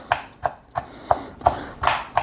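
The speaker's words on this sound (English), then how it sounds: "Chopping them up nice and good here." A knife chopping peppers taps sharply on a cutting board in seven evenly spaced chops, close and crisp, with no talking.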